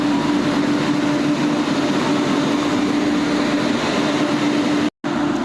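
Sealdah–New Delhi Rajdhani Express hauled by a WAP-7 electric locomotive, a loud, steady rumble of the moving train with a constant tonal hum, heard close from onboard and without talk; it cuts out abruptly for a moment near the end.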